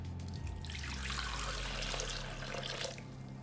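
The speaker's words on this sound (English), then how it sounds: "Now boil 2 cups of water and put that into your blender." Hot boiled water pours steadily into a blender, a continuous watery rush with no talk over it.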